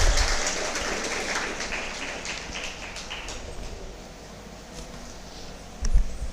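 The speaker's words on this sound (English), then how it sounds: "I request the audience to please join your hands and give a big round of applause" Audience applause after a paper presentation at an academic event, clapping that starts strong and gradually thins and fades, ending with a brief bump of handling noise.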